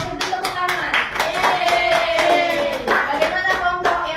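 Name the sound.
class clapping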